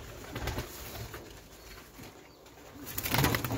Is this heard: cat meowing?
no